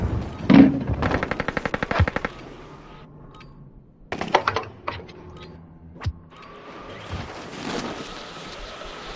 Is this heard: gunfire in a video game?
yes